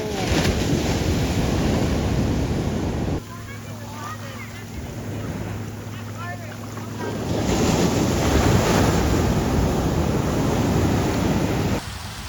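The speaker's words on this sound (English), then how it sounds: "The waves right now are huge, probably double what we saw earlier." Large ocean waves crash and roar on a beach at the Riu Jalisco resort, loud and close, with heavy wind noise across the microphone and a calmer lull midway before the surf surges again.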